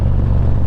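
A motorcycle engine rumbles loud and close as the rider gears down for a 30 mph curve, a steady throbbing low drone with no clear shift break, no talking over it.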